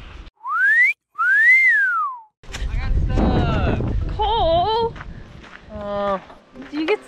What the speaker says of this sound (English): If we find an acorn top, I can make an acorn top whistle.